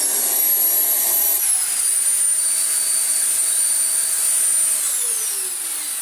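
A Morphy Richards Perform-Air 73381 upright bagless vacuum cleaner runs steadily with a loud, high motor whine and rushing airflow, its pitch dipping slightly partway through as the suction load changes.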